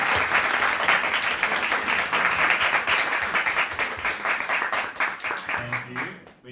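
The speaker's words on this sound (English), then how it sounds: "Can we please give them a big round of applause?" Audience at a queer community event giving a big round of applause to four panelists, loud sustained clapping that tapers off at the end, with a voice starting to speak as it dies down.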